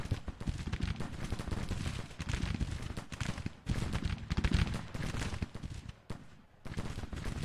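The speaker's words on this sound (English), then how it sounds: "they're taking some really heavy fire there" Heavy gunfire in Grand Tactician: The Civil War: dense, continuous musketry crackles and pops as massed volleys, with deeper booms underneath, fairly distant and quiet, easing briefly near the end.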